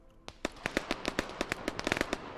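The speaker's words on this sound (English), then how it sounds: "They're trying to grenade the Gorgon, that's cute." Several sharp blasts from grenades thrown at an armored Gorgon vehicle in the military shooter Arma 3, about a dozen quick cracking pops in an irregular burst, moderately distant and crisp, with no talk.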